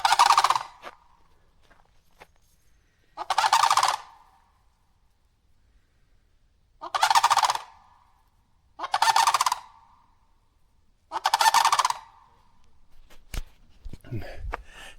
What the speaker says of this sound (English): That is the coolest sounding bird ever